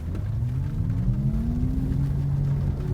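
A 2022 Mazda MX-30 electric car accelerates, its synthetic feedback tone rising slowly and faintly over a steady low road rumble inside the cabin.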